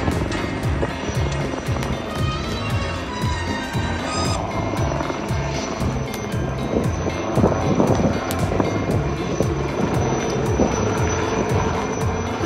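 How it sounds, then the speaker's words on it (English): A HAL light combat helicopter at an air display, its rotor thumping in a steady rhythmic pulse with a turbine whine, loud and fairly close, accompanied by wind buffeting on the microphone. "that completes the display by the light combat helicopter"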